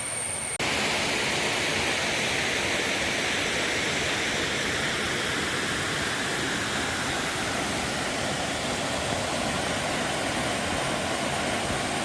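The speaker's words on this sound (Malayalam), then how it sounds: "മാടത്തരുവി വെള്ളച്ചാട്ടമാണ്." Madatharuvi waterfall near Ranni pours as a loud, steady broadband roar close by, unbroken for the whole stretch with no voices over it.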